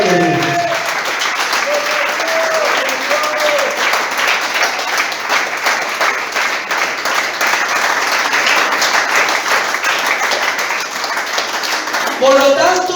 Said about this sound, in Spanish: Aplaudan conmigo.